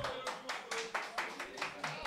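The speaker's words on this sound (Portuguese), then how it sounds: "Satisfação, palmas pra ele aí" A crowd at the Batalha da Aldeia rap battle claps in a rhythmic, evenly spaced beat of about eight bursts. The claps sound fairly faint and distant, with a voice faintly audible underneath.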